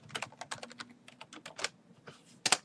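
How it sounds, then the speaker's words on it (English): Someone types a password on a computer keyboard: a quick burst of roughly a dozen close, crisp key clicks in irregular rhythm, a short pause, then a final pair of keystrokes, quiet overall. "Type in your password."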